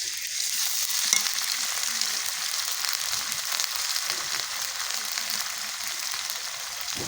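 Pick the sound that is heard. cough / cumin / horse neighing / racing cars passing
cumin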